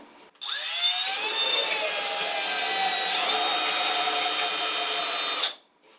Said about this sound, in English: Sand the wall for a few seconds.